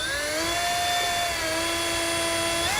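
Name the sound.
small drill bit drilling a hole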